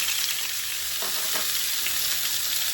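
Boneless pork chops searing in a hot pan give a loud, steady, close sizzle that continues alone throughout, with a couple of soft knocks partway through.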